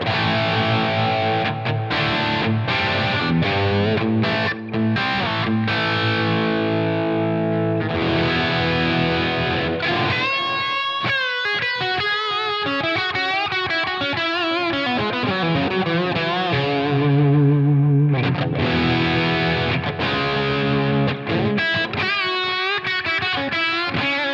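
Distorted electric guitar through a Line 6 Helix amp modeler preset, effect switched off, plays continuously, chords and riffs with a thick, saturated amp tone, loud and steady throughout.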